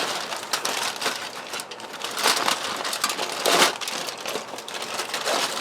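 Foil crinkling and crumpling as wrapped BBQ beef ribs are opened, a close, steady rustle with louder crushing bursts throughout.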